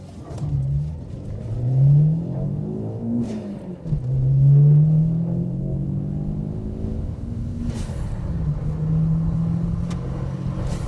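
A 1987 Fiat Uno Turbo with its 1.3 turbo engine accelerating hard, engine note rising through the revs, easing at a gear change, then climbing again as a steady, close rumble.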